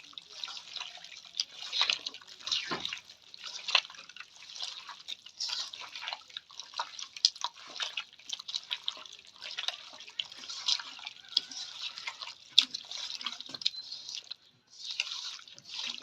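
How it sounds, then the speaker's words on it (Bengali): Hands squish and knead food ingredients mixed with oil in a bowl, giving wet, sticky squelches and soft slaps in an irregular rhythm, close and fairly quiet, with no talk. "এখন হচ্ছে সবকিছু একসাথে মিক্স করবে"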